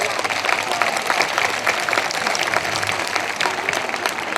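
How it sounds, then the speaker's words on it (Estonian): Applause from the audience at a kindergarten spring concert, a moderate crowd clapping steadily with a light murmur of voices underneath. "Suur aplaus!"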